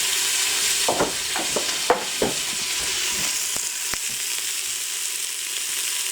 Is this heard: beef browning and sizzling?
yes